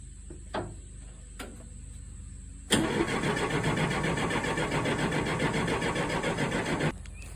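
A 1967 Allis-Chalmers HD-4 crawler loader diesel cranks in two short bursts, then catches at once and runs loud and steady for about four seconds before cutting off, close to the microphone with no talking.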